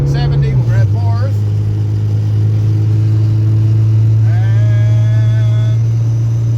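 A Mitsubishi-built Dodge Challenger with the 2.6-liter 4G54 four-cylinder drones steadily at highway speed. Early on, the pitch drops sharply during a gear change, then settles into a loud, even engine hum with faint whining tones.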